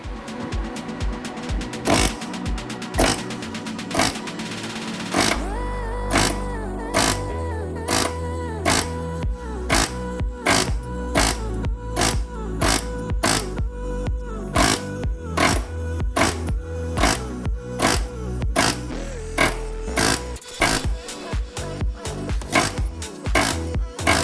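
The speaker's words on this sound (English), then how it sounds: "we're just going to go ahead and hit it with the air hammer" Rapid, loud pneumatic air hammer pounding sheet metal on an Acura RSX during an AWD conversion, bursts of sharp repeated impacts over a steady droning hum, close by with no talking.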